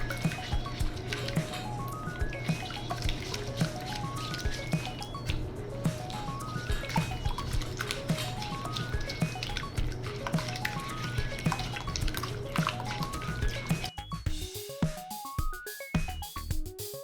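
Homemade slime is squished and squelched by hand, a steady wet, sticky mixing sound with soft drips, close and fairly quiet, over faint background music.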